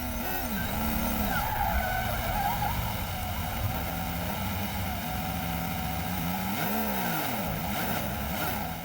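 Hamilton's Formula 1 car skids and spins off the track, a long harsh tyre scrub over a loud engine wail that sweeps up and down in pitch, with no pause across the whole stretch.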